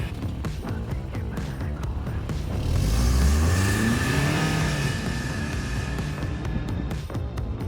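A huge ATV quad powered by a Toyota engine drives on asphalt, its engine rising in a revving, accelerating growl that swells midway and then settles to a steady drone.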